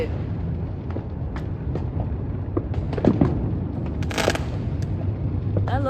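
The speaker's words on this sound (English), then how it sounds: "These fireworks are kind of crazy." Fireworks bursting on a fireworks holiday: dense, continuous rumbling booms with scattered sharp cracks and a brief crackling flurry near the middle, loud and sustained throughout.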